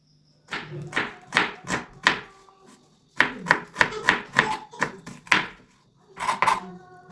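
A knife finely chops onions on a board for an Assamese duck curry with ash gourd, in quick bursts of sharp, close taps, a pause, then another run and a short final flurry.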